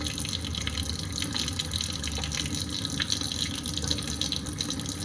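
Tap water runs steadily into a sink while a paintbrush is washed with soap, a constant, fairly quiet rushing hiss with faint splashes and no talking.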